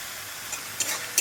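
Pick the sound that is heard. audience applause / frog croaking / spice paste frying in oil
spice paste frying in oil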